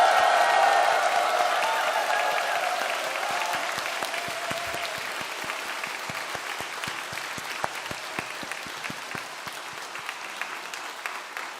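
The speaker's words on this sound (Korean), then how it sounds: "우리 큰 환호성과 함께 박수로 영광" A church congregation at a Christmas thanksgiving service claps and cheers, starting with loud cheering over applause, then steady clapping that slowly fades.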